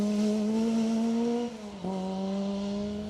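A high-pitched 2-litre Cosworth racing engine screams steadily, dips briefly as it lifts off around mid-clip, then returns to a sustained, loud, even drone.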